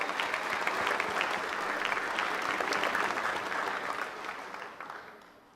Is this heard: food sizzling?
no